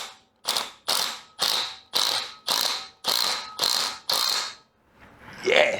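Torque wrench ratcheting on a 1971 Honda CB350 engine bolt as it is tightened to 21 foot-pounds: eight quick, even metallic ratchet bursts in a steady rhythm, close and clear, followed by a brief rustle.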